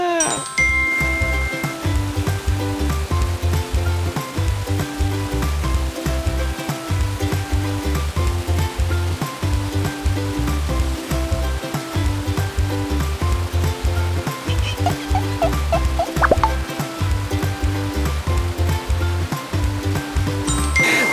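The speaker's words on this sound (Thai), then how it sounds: "มีน้ำตกด้วยนะมีน้ำตกนะ" Steady, continuous rush of a waterfall inside an indoor garden dome full of plants, a dense even wash filling the whole stretch, with a musical tonal pattern running through it and a few brief chimes near the end.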